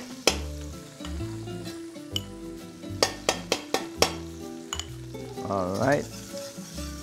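Garlic and tomato paste sizzle in a hot pan for tarhana soup, a steady frying hiss broken by sharp clinks and knocks of utensils against the pan, with a brief spoken word near the start.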